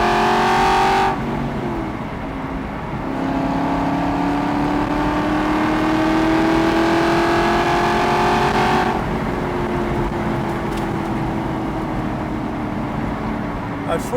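A 2009 Aston Martin Vantage 4.7 V8 revs steadily up toward 5,000 RPM, its engine note climbing smoothly and holding loud and close in one sustained pull, with no talk over it.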